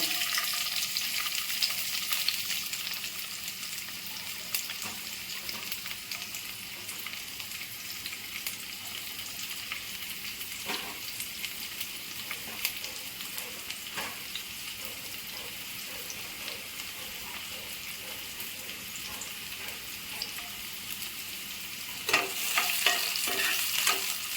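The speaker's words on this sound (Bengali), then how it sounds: "এখন আমি পেঁয়াজগুলো প্রথমে ভেজে নেব" Onions sizzling and being stirred in hot oil in a wok for street-style Bengali ghugni, with a steady close frying hiss and periodic scraping stirs, no talking.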